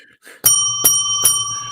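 Three sharp metallic bell rings on a comics podcast, each a bright ringing strike in quick succession about 0.4 seconds apart, loud and close, with the tone sustaining after the last.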